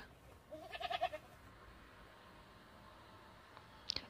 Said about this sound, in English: G for goat.